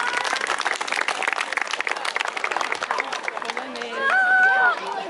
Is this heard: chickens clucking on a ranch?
no